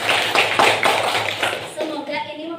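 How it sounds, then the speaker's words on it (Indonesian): A small group claps hands for a few seconds in a classroom-style session, crisp separate claps fading out as a voice starts speaking. "tepuk tangan"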